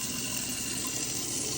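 Water runs steadily from a kitchen tap into a pot for cooking rice, a continuous close-up rushing pour with no break and no talking.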